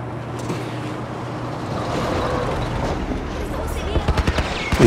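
Game gunfire in The Last of Us cracks out near the end as a rapid string of sharp shots over a low engine-like rumble, with no voices over it.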